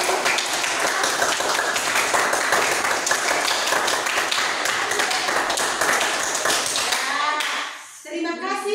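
A classroom of students applauds a presenting group, dense and steady clapping that continues for several seconds and then stops as a teacher begins to speak.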